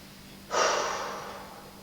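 A deep, full exhale through the mouth and nose during a dance yoga emotional release session, a single breath that starts abruptly and fades over about a second, close and soft with no talking.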